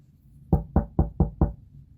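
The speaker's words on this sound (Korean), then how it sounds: "소년은 작은 집에 문을 두드렸어요." Five firm knocks on a wooden door, close and evenly spaced in a quick rhythm, with quiet around them.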